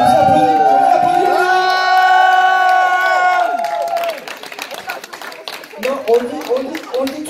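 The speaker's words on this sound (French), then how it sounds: "Je vous applaudis." Orchestral music at a New Year's Eve concert holds sustained notes, then breaks off into a loud crowd of clapping hands that continues for several seconds, with scattered voices mixed in.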